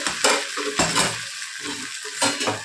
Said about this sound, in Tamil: எல்லாத்தையும் போட்டு நல்லா கலரி விட்டுருங்க.